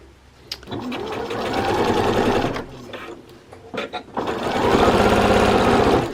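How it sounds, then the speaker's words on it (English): Sewing machine stitching a 1 cm seam allowance on fabric toward a sharp corner, a close, loud rapid mechanical whir in two bursts separated by a brief pause with light handling clicks. "I'm going to seam a 1 centimetre seam allowance all the way to the top corner or very close to it"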